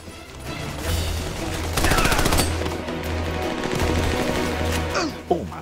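Automatic gunfire rattles in the shooter game Army of Two: The Devil's Cartel, with loud sustained bursts and rapid overlapping volleys that continue throughout, while a voice talks beneath the shooting.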